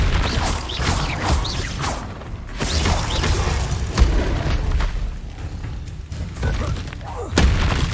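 Blasting-spell explosions in the wizarding video game Hogwarts Legacy, several booming impacts and whooshes layered over dense combat noise, loud and close.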